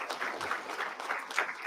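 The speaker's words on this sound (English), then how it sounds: "these other administrators that are applauding her" Audience of school district administrators applauding an elementary school principal at a district address, a steady burst of clapping from a room of people.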